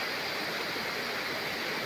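A clear river in Palauig, Zambales, rushing steadily with a dense, even wash of flowing water, close and constant with no voices over it.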